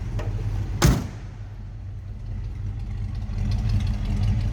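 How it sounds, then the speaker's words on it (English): A 327 V8 in a 1968 Chevrolet Camaro convertible idles through dual exhaust with a steady low rumble, preceded by a sharp thud near the start, the idle swelling slightly louder toward the end. "Slip around to the back so you can hear that 327. Nice sounding engine."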